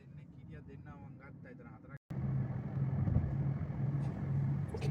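A taxi drives through Limassol, Cyprus, toward a water park, its steady low engine and road rumble heard from inside the cabin after a brief cut, while a voice speaks over quieter road noise at first.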